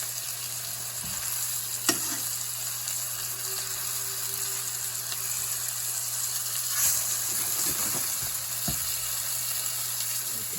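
Chicken pieces simmer in piccata sauce, a continuous close sizzle and crackle holding steady throughout, with a few faint clicks of a utensil against the pan.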